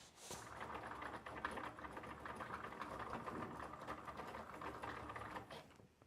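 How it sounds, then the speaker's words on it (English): A Cricut cutting machine slicing vinyl on a vinyl setting with added blade pressure, giving a steady mechanical whir and buzz that runs continuously and fairly close throughout, with no talk. "you're going to be able to cut this out on a traditional vinyl setting"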